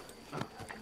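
Horse hooves clip-clop in the video game Assassin's Creed, a few soft, irregular footfalls heard faintly under a steady game background hum.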